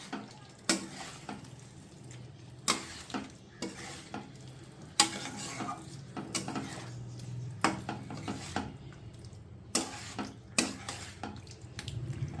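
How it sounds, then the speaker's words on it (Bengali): Lightly fried paneer stirred into spice masala in a pan, with repeated sharp scrapes and clacks of a spatula against the pan over a soft sizzle, alone without talk. "পনিরটা খুব ভালো করে মশলার সঙ্গে মিশিয়ে দেবো"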